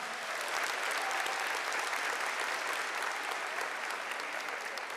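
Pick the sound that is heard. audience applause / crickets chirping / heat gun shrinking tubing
audience applause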